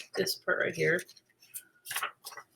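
Close, crisp snips of scissors cutting through paper, a few separate cuts with short pauses between them and nobody talking.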